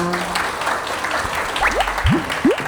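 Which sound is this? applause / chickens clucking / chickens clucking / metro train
applause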